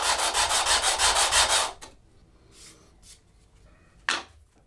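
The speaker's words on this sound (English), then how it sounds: "Sanding." Steady rhythmic rasping of sanding on wood for a couple of seconds, then quieter scattered rubs and a short scrape near the end.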